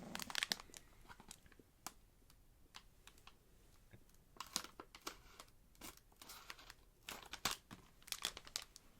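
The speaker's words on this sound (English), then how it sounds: "I have these scissors. I'm just gonna cut into the back." Scissors cutting into the back of a candy wrapper: crisp snips and crinkling of plastic, a series of sharp cuts and rustles close by, irregular bursts with quieter pauses.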